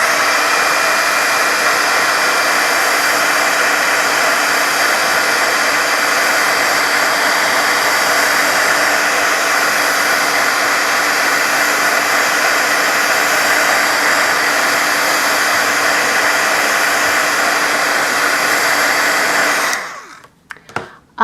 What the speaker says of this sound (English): I think I'm going to hit them with my heat tool just to kind of prevent any of it transferring to my plates in my die cutting machine.